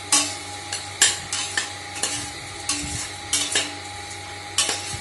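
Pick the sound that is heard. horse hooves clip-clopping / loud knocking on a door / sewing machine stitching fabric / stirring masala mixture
stirring masala mixture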